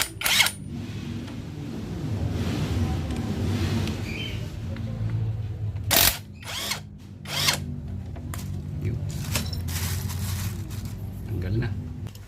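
A power tool loosens screws on a Honda Click scooter during a disc brake fitting. It whirs in one burst at the start, then in several short, sharp bursts later on, with a voice talking in the background between them.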